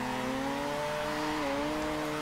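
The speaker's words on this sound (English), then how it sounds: "the engine sounds fucking amazing" Mazda RX7 engine in Forza Horizon 2 holding a steady high rev while drifting in second gear, a continuous droning whine with slight pitch wobble, heard alone.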